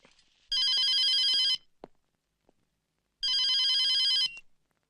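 An office telephone bell rings in two long bursts separated by a pause, loud and close with a bright electronic trill; a faint knock or tap falls between the rings, and no one speaks.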